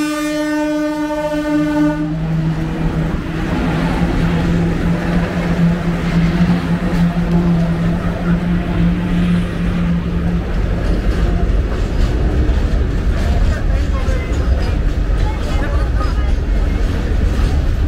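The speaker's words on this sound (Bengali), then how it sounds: "এদিক থেকেই ট্রেন আসবে।" A train passes a level crossing on a rail route near Koraput. It opens with a loud horn blast, then a long, heavy rumble and clatter of wagons rolling past close by.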